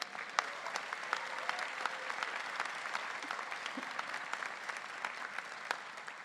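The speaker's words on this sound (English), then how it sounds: "give them a round of applause" Sustained applause from a large audience at a graduation commencement ceremony, dense and even clapping without voices.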